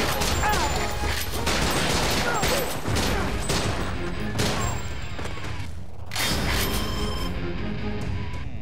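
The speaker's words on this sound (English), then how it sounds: "Don't stand in front of the machine gun!" Heavy machine gun fire in Time Crisis 5 rattles in dense, continuous bursts with crashing impacts and metallic clatter, loud throughout, while voices shout over the barrage.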